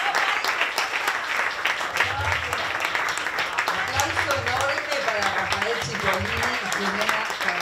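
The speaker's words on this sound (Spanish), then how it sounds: "Un aplauso enorme para Rafael Cipollini." Sustained applause from an audience at an academic conference panel, steady dense clapping throughout with a few voices and cheers mixed in.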